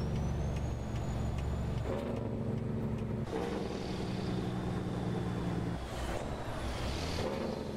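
A big truck engine in American Truck Simulator drones with a steady, loud low rumble that shifts pitch slightly as gears change, with no voices.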